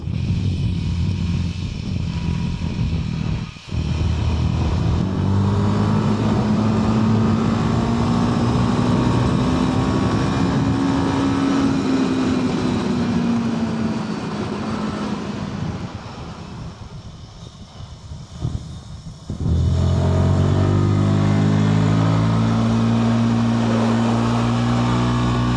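A Royal Enfield Guerrilla 450 motorcycle accelerates on a race track, its steady engine drone rising in pitch through the gears, with a brief drop near the middle and a shift before it climbs again, loud with wind noise.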